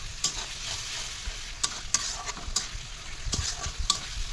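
Ground spice masala is being sautéed with a splash of water for a chicken dish, giving a soft, low sizzle broken by sharp scrapes and taps of a spoon against the pan.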